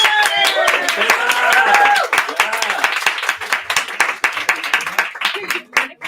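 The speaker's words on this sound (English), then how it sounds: "Big round of applause for Taylor!" Audience applause at an auction event as a guest is called to the stage, dense clapping from a crowd that thins out over several seconds, with voices and cheering mixed in.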